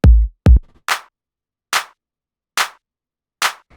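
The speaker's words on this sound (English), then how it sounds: "Layering the clap and the snare together to get it as fat as possible." Fat layered clap and snare hits in an electro techno beat, opening with two heavy kick-like thumps followed by four sharp, evenly spaced clap-snare strikes alone, loud and punchy.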